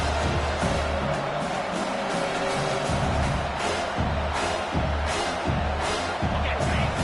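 Stadium crowd in a college football video game, a dense roar that rises and falls continuously through the whole stretch, loud and close, with faint cheering swells.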